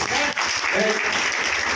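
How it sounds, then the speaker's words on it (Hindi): An audience at a gathering claps in a short burst of applause, with a voice talking over the clapping. "जोरदार ताली होनी चाहिए लोगों की"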